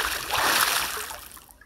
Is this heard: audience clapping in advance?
no